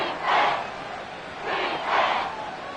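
An NFL stadium crowd roars in two swelling waves from a distance, rising and fading with a hollow, open-air wash, with no talk over it.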